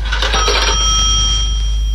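Radio drama sound effect of a coin dropped into a telephone: a bright metallic clink and jangling ring at the start, then a sustained tone fading out, loud over a low hum.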